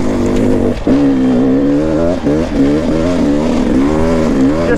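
Enduro motorcycle engine in third gear pulls hard up a loose, bumpy trail in Teanaway, Washington, loud and close. Its pitch rises and wavers as the throttle changes over the rough ground.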